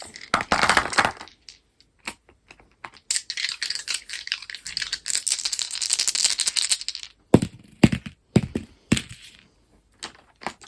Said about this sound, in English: we're going to roll the third set of dice